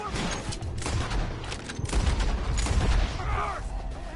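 Gunfire in a Red Dead Redemption 2 shootout with enemies up in the trees, a dense run of shots and booms over continuous game noise, with voices shouting beneath.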